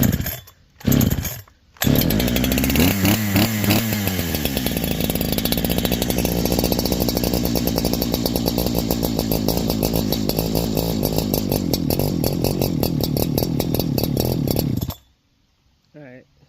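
A Farmertec Holzfforma G372 XP chainsaw, fitted with an OEM Walbro HD12 carburetor, runs loud and close with the choke still on. Two short pulls come first, then about thirteen seconds of steady revving that cuts off abruptly.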